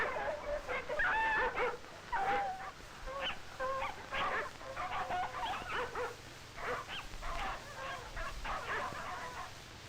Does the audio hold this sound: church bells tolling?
no